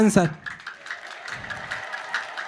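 Audience applause fills a religious gathering, a steady spread of many hands clapping at moderate loudness, beginning just after a brief voice at the start.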